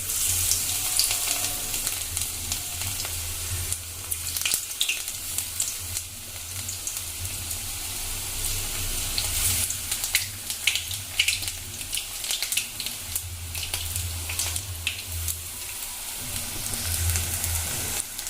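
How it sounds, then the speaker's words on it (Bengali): Onion fritters (piyaji) fry in a batch of hot oil, giving a continuous bubbling sizzle at moderate volume with occasional louder crackles and no voices. "এবার আমরা সবকটি পেঁয়াজি ভেজে নেব"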